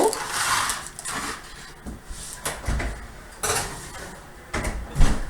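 A tray of homemade Italian biscotti going back into a kitchen oven: clattering metal pan knocks and an oven door thud amid household room noise.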